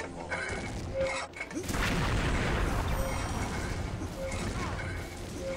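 Gunfire and explosions in the shooter game XSHOT, a dense, loud barrage of shots and booms running throughout, with a brief lull near the start.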